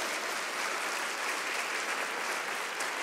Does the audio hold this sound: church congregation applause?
yes